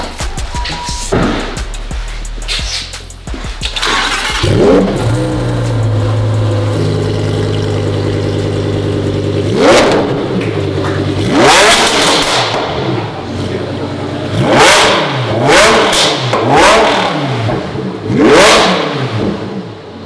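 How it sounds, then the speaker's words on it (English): A Lamborghini Huracan Evo Aperta with a supercharged V10 cranks and fires up, then settles and bursts into several loud, sharp revs that climb and fall in repeated surges, heard close up. "Let's go ahead and start this car up"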